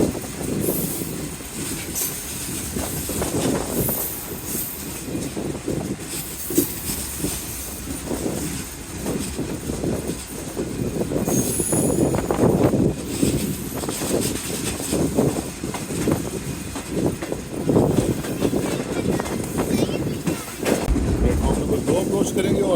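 Karachi Express passenger train running on the line in Pakistan, a steady rumbling roll with rising wheel noise and faint metallic squeals, heard from nearby with someone talking over it.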